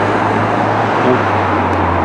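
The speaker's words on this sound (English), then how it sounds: "Sorry about the traffic noise." Steady road traffic roars close by near the harbour in Truro, Cornwall, a continuous rumble of passing vehicles with a low engine hum underneath.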